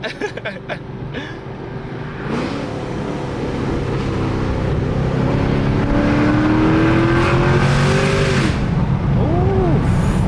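A cammed Chevrolet SS sedan's V8 idles with a lopey rumble, then revs and pulls away, the engine note climbing and falling through repeated accelerations, loud and close, with a brief voice near the start.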